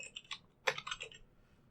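Keystrokes on a computer keyboard during a MagpieOS 2.2 GNOME install, typing into a small test field: a short burst of close, crisp clicks with a brief pause, then a quicker run of taps.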